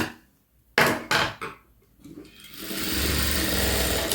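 Sharp knocks and clicks of handling come first, then a sewing machine stitching a sleeve seam starts a steady, close whirring run that continues to the end.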